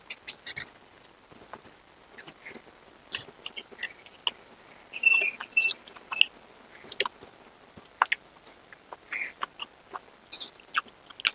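Close, crisp chewing of a mouthful of bottle gourd curry cooked with milk and green chilli, with irregular soft bites and wet mastication clicks, no talking.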